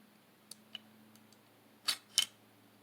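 Metal clicks come from the cylinder of a Pietta 1858 New Model Army revolver, with two faint light ticks followed by two sharper, closer clicks in a quiet room.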